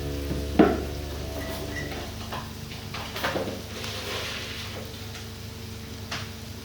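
Meat for koshari sizzles steadily in a pan as it is stir-fried, with a few clinks and scrapes of stirring over the continuous hiss.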